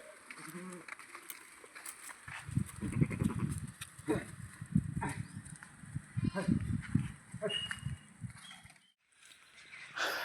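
Goats bleat outdoors in a rural setting, a few low, wavering calls rising over soft ambient noise with light movement, fairly faint and somewhat distant.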